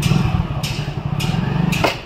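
A motorcycle engine runs close by at a low, pulsing idle with an uneven chug, broken by a few sharp knocks or clicks, during a riding lesson.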